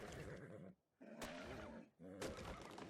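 A horse neighs in the survival game ARK, modded with Survival Plus. There are three loud, close whinnying bursts, each about a second long, separated by short quiet gaps.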